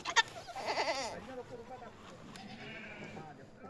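A goat bleats close by in a few wavering cries near the start, during a goat sale, then people talk over quieter background sounds.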